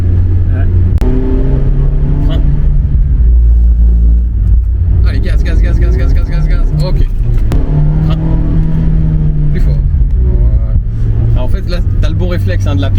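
A stock Mazda MX-5 ND 1.5 petrol roadster revving hard while drifting on a track, loud rising and falling engine notes with tire squeal bursts, under an instructor's voice talking in the cabin.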